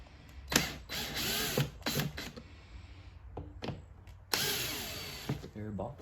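A ratchet works on the air box screws of a Mercedes-Benz E350 W212, giving bursts of quick clicking pawl sounds separated by short pauses, close and fairly loud in a quiet garage.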